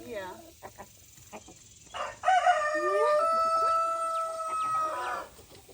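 A pet farm rooster clucks a few short notes, then lets out one long, loud crow close by, with people talking softly around it.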